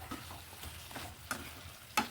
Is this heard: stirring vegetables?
yes